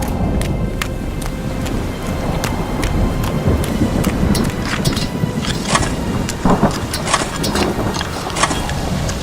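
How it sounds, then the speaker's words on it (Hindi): Heavy rain pours down steadily with a dense, loud hiss, broken by sharp crackles and low rumbles of thunder throughout, with no voices. "बारिश शुरू हो गई।"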